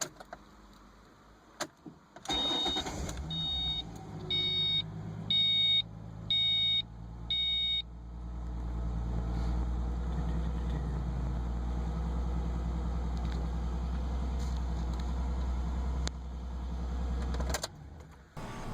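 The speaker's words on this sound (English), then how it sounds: "then start the ignition." A Ford Mustang is started after its instrument cluster is reconnected: a row of chime beeps, then the engine cranks and settles into a steady low idle, close and unaccompanied by talk.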